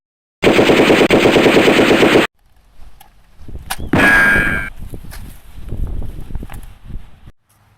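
Loud, rapid machine-gun fire plays as a sound effect in a Battle of Antietam history skit, a sustained burst of about two seconds, followed by a sharp metallic clang and quieter clattering.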